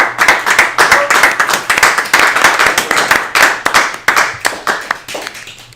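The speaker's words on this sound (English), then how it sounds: "je vous applaudis, bravo" A room full of people claps loudly after a PhD defense. The dense, rapid applause holds steady for several seconds before starting to thin out near the end.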